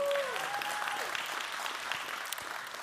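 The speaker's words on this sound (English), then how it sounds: "Y'all give him a round of applause." Applause from an indoor audience at a company anniversary event, a steady wash of many hands clapping at moderate distance, fading slightly toward the end with a few brief voices underneath.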